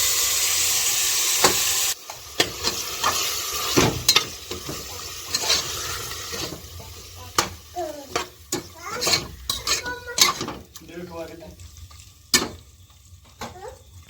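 Marinated chicken sizzles in a pressure cooker with fried onion and tomato for an instant chicken biryani. Steady frying hiss sits under repeated scraping strokes and sharp metallic clinks of a stirring spoon against the pot.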